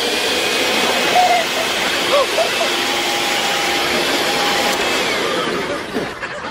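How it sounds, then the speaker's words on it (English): A steady, loud vacuum cleaner drone with a constant whine runs throughout, dipping slightly near the end. "you have to turn the vacuum on"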